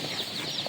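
Dominant Sussex hens, an egg-and-meat breed, give a brief, faint cluck amid steady farmyard background noise.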